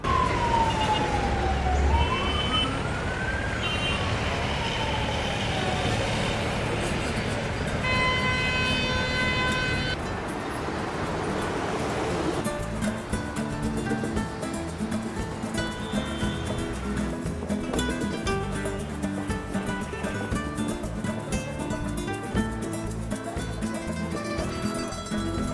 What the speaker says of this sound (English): There's just a cacophony of city noise, of honking horns, motorcycles screaming by